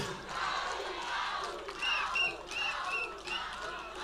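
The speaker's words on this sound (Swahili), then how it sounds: "Na makofi ya Mheshimiwa Babu Owino." A crowd at a Kenyan political gathering cheers and applauds for Babu Owino, with faint, distant clapping and scattered shouts rising and falling.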